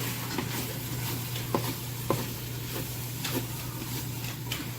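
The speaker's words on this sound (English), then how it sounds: "Just going to scrape up whatever did start to stick on the bottom." A spoon scraping the bottom of a pot of homemade chili as it cooks, with a few sharp scrapes and clicks over a steady low hum and a faint sizzle.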